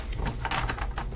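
Tarot cards are shuffled in quick, papery riffling bursts, close and steady for about a second with no talk over them.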